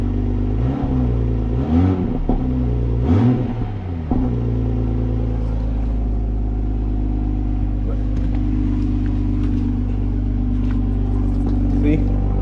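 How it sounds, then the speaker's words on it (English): Stock Toyota Supra in sport mode with its exhaust valves open, revving in several loud rising and falling pulls near the microphone before settling into a steady deep idle rumble. "If you go sport mode, you hit that button, put the sport mode, it opens up the exhaust."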